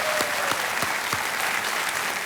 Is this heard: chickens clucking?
no